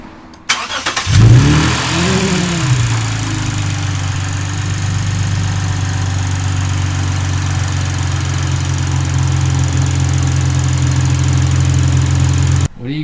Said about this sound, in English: Start up with the new intake.